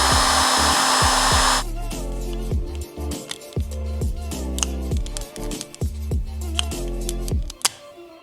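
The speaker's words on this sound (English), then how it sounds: "I'm going to heat up this plastic with a heat gun to hopefully make this plastic a little bit less brittle." A heat gun warms brittle plastic from a Miata air vent, blowing a steady close roar for about a second and a half before cutting off. Scattered clicks and knocks of the part being handled follow.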